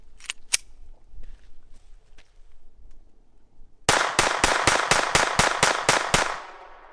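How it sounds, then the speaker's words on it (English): Ruger LCP II Lite Rack .22lr pistol with a Galloway Precision spring kit fired in a rapid mag dump, about nine sharp cracks in quick succession, loud and close, after a few quiet handling clicks. "Let's just go ahead and fire off a bunch of rounds here."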